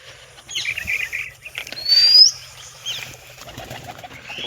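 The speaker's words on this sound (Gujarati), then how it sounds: "અને મિત્રો આપણે બે કબૂતર ઉડવા ગયેલા હતા, એ પણ આવી ગયા છે" Pigeons returning to their loft, a burst of wing flapping rising to a loud flurry midway, with soft chirps and coos around it, close by.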